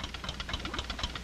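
An old, activated underwater bomb in a children's cartoon gives off a steady, low rhythmic throbbing hum, like a ticking engine pulse, moderately loud and continuous.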